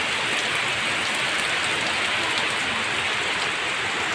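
Heavy rain pours steadily onto surfaces outdoors, a loud, dense, unbroken hiss with no pauses and no voices.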